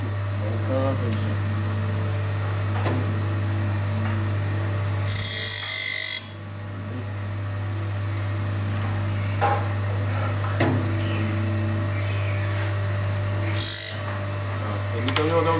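An OR 50 F saw blade sharpener grinding with its wheel, a steady loud mechanical hum with two short bright bursts of grinding and scattered clicks and taps, while someone talks throughout.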